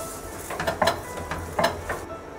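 A spoon stirs sugar into moong dal halwa in a pan, giving soft scraping and clinking strokes at a faint, close level with no talk.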